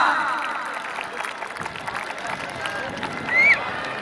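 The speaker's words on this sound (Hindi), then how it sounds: "जोरदार तालियां" Spectators clap loudly at an outdoor kabaddi match, a dense wash of applause and crowd noise beneath a voice that carries over it.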